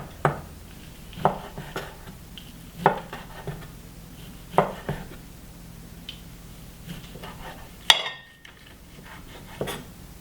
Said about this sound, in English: We're gonna slice the pork belly.